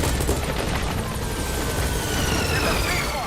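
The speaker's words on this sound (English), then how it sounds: "we'll call the helicopter back to our landing zone" A helicopter arriving for extraction in a military video game demo, its rotor hum buried in a loud, constant wash of gunfire, booms and battle noise, with a voice talking over it.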